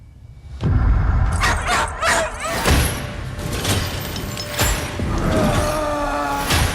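A dog in the horror film Good Boy barks in a quick run of yips, then whimpers and whines, loud and close, with clattering movement between the cries.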